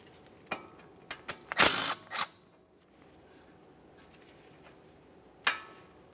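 Two 10mm bracket bolts being removed from the front brake hose bracket of a 1994–1997 Honda Accord: sharp ratchet clicks and a short burst of rapid mechanical whirring, then quiet and one last metallic clack.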